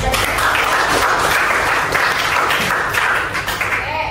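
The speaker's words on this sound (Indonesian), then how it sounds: "Oke, beri tepuk tangan." A room full of people at an Indonesian teacher training session claps steadily and loudly for several seconds, a dense, continuous burst of applause.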